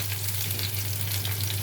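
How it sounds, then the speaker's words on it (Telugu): Dry red chillies fry in oil for a tempering, giving a dense, continuous sizzle and crackle at close range over a steady low hum, with no talking. "నూనెలో వేగిన ఎండుమిర్చి ఎంతమందికి ఇష్టం ఫ్రెండ్స్ నంచుకోవటం."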